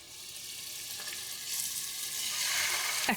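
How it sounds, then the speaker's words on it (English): Pork chops fry in hot oil in a pan, a steady broadband sizzle that swells slightly partway through and continues unbroken, close and fairly loud, with a brief clatter at the very end. "You want to hear that nice sizzle."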